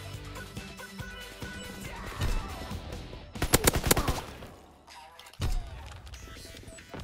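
Mortar rounds fire in a video game, a cluster of loud close booms with a burst of rapid sharp reports in the middle, then another heavy blast, over a rumbling background.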